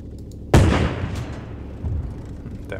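A StuG III assault gun fires a shell at burning infantry in Arma 3: one sudden, loud, close cannon blast rolling into a long rumbling decay, with a softer thud following about a second later.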